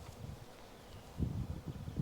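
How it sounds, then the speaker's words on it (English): A honeybee swarm buzzes faintly around a beekeeper in a backyard, a soft continuous hum with a few louder low rustles toward the end. "I still got bees all over me"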